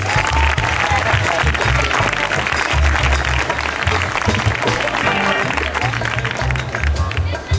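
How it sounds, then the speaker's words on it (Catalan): Festival crowd in Manacor applauds two people at the Crist Rei festivities opening speech, a loud, sustained wash of clapping with some voices mixed in, steady for several seconds. "un fort aplaudiment per ells dos"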